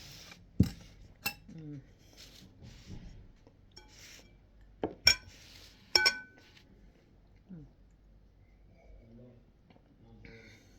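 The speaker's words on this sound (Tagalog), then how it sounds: "Busin ko lang yung sabaw habang mainit-init pa" A metal ladle scooping bulalo beef broth from a pot, sparse clinks and scrapes against the pot with light sloshing, a few sharp taps standing out against near silence.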